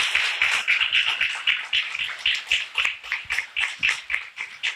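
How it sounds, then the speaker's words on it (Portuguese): A small gathering in a Catholic teaching session claps in a sparse, uneven patter of individual hands, close and fairly loud, fading gradually over a few seconds without talk. "Eu queria que você pudesse aplaudir Jesus"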